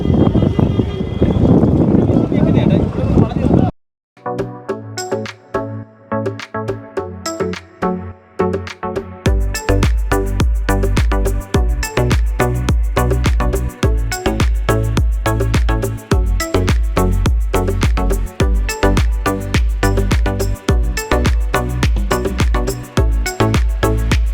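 Loud rhythmic drumming and chanting-like pulses from a snake boat race at the Nehru Trophy, steady and energetic, with a brief pause early on before the beat kicks in harder.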